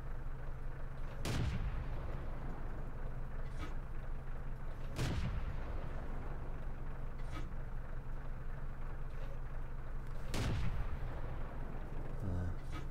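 Artillery shells land in a World of Tanks battle, several heavy booms spaced a few seconds apart over a constant low engine rumble, with someone talking throughout.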